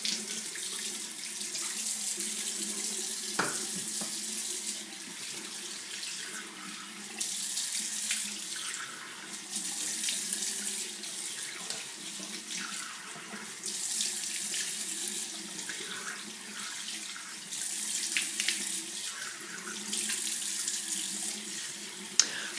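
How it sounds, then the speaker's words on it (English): Steady hiss of a running tap at a sink as water rinses a face brush and a face, with faint splashing variations and occasional small knocks throughout, close and continuous with no talking. "So you can go ahead and rinse your brush and then rinse your face."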